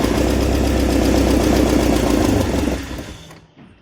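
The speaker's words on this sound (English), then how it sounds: "Don't worry about the exhaust noise because I haven't put the exhaust back on." Porsche 944 engine running without its exhaust fitted just after a cylinder head and cam/balance shaft belt job: a loud, raw, steady idle that drops away and cuts out near the end.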